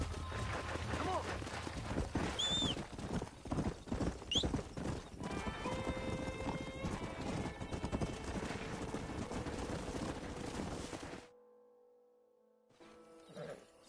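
A wild stallion in the video game Red Dead Redemption 2 neighs shrilly a few times over steady, close clip-clopping hooves while people talk, before the sound cuts to near silence.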